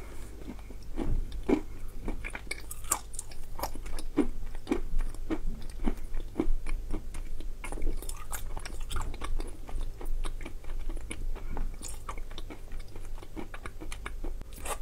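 Close-up chewing of Orsk "Dymok" chalk paste, with repeated crisp crunches and bites in an uneven rhythm throughout.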